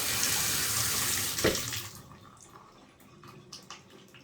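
Water runs steadily from a shower faucet after a cartridge replacement, a loud continuous hiss that cuts off abruptly, followed by a few faint drips and small knocks.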